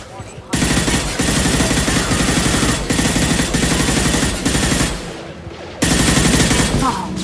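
Gunfire in Mass Effect 2, with loud sustained automatic bursts close up, a brief pause, then another burst.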